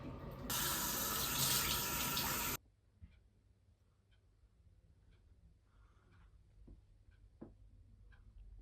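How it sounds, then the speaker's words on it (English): Bathroom tap running while someone washes their face: a loud, close splashing gush of water for about two seconds stops abruptly, followed by quiet room tone with small clicks and taps. "Just gonna wash my face first."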